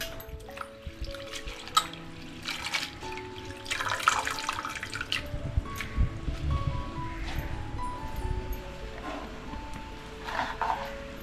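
Kurdu leafy greens being washed under running water in a sink, with a steady splashing stream and scattered drips and rustles of wet leaves, close and fairly quiet throughout.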